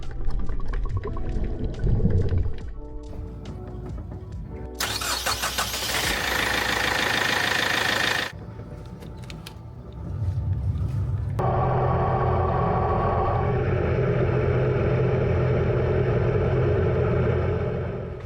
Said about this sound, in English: we fired up the engine to check them out.